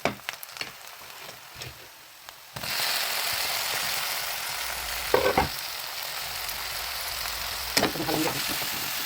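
Soybean curry frying in a pan as tomato goes in: quiet scraping and taps at first, then a sudden loud sizzle that holds steady, with a few stirring clatters on top.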